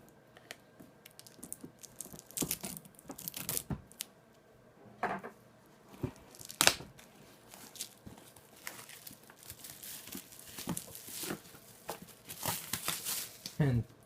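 Plastic shrink-wrap on a Dungeons & Dragons 5th Edition starter set box gets sliced and peeled open, with scattered crinkles, snaps and tearing rustles close by, broken up by quieter pauses.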